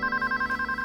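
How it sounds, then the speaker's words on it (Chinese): A home landline telephone rings in a rapid, continuous electronic trill, loud and close, with no voices over it. "电话"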